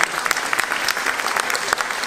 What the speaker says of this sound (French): Je vous demande de bien applaudir donc, notre écrivaine.